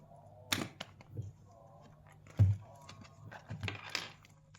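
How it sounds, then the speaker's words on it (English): A few crisp scissor snips close by, trimming thread ends on leather, spaced apart with short pauses, against a quiet background. "Trim with scissors."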